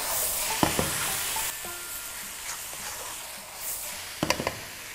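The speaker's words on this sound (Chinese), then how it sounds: "然后呢把猪肝放下来" Pork liver stir-fried in a pan with cooking wine, a steady close sizzle with a few sharp clinks of a spatula against the pan near the start and a quick clatter near the end, no talking.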